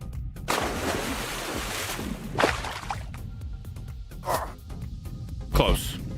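Loud rushing water in the Final Fantasy VII Rebirth video game, a broad continuous roar with surging swells and a few sharp splashes and thuds, with talk over it.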